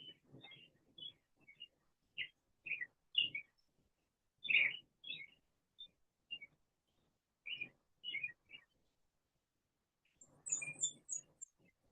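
A recorded warbler song made of short, thin, high-pitched squeaky chirps in scattered bursts, with brief pauses between phrases and a final cluster of very high notes, clear against silence.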